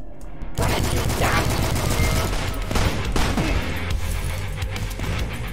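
Assault rifle gunfire in the retro shooter DUSK on PC, starting abruptly after a brief quiet moment and then sustained rapid automatic shots with booming impacts, loud and close for several seconds.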